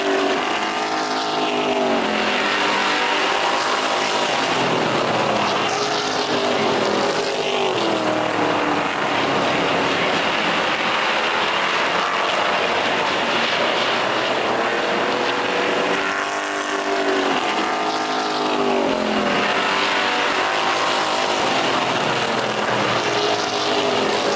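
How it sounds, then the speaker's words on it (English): Race cars lapping a track during a Super Streets series race, engine drones rising and falling continuously as cars pass, loud and sustained with no pause. "There goes Sean Johnson in the 35 down pit road as we head halfway this time."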